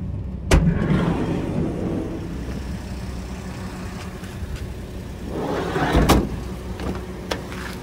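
A small 0.7-litre car engine idles steadily at close range in a quiet, even drone, with a couple of brief louder bumps near the start and toward the end.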